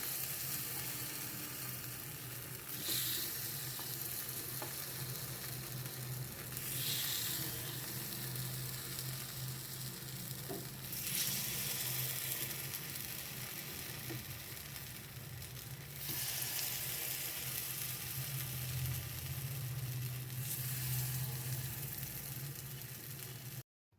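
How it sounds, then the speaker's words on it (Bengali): Appe batter sizzles steadily in an oiled appe maker over the heat, a continuous close frying hiss with faint spoon clinks as each cavity is filled. "আপ্পে মেকারে আমি সামান্য একটু তেল লাগিয়ে নিলাম এবারে এক চামচ করে ব্যাটার দিয়ে দিচ্ছি সব কটা আপ্পে মেকারে"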